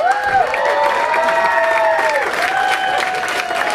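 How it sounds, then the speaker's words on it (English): A comedy club audience applauds and cheers loudly for comedian Eric, with steady clapping, whoops and shouting voices filling the room throughout. "Bring your hands together for Eric!"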